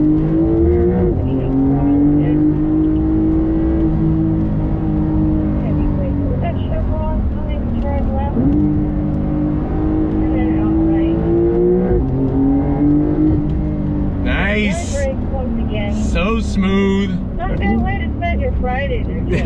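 A loud, close 2021 Porsche 911 engine drones and climbs in pitch through the gears, with rising whines and drops at each shift, while a voice talks over it.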